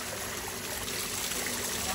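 Cold water from a tube well runs in a steady, close, rushing stream, an even hiss with no pauses.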